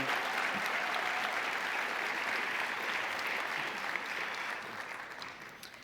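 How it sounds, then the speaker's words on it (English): Audience applause for volunteers and staff at a photography association award and degree ceremony: steady, dense clapping from a large crowd that holds evenly, then thins slightly toward the end. "Let's have a round of applause for those hard-working people."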